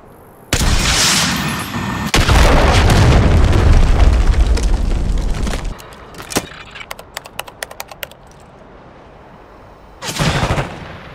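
Archangel scorestreak strike in the Call of Duty Black Ops 6 video game: a sudden loud barrage of heavy explosions and rumbling booms for several seconds, then scattered sharp pops and cracks, and a final burst of blasts near the end.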